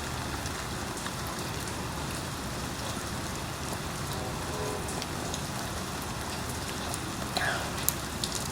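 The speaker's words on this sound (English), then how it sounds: "Now I'm really enjoying the sound of rain here now that it's picking up." Steady rain falling on surfaces outdoors, a dense continuous patter with scattered louder drops, close and even throughout.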